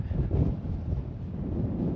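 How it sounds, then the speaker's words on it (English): Strong wind buffets the microphone in a steady, loud roar with gusty swells, filling the whole stretch outdoors without any clear talk. "This wind is crazy though."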